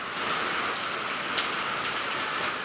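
Steady, heavy rain hisses without a break during flooding, a dense wash of drops falling on surfaces nearby.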